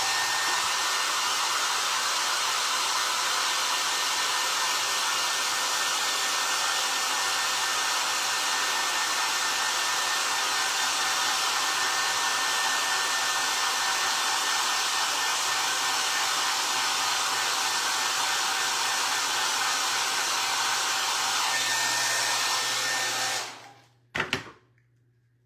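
A hair dryer blows steadily on a drum for a long, loud, unbroken whoosh, then switches off with a brief clatter near the end.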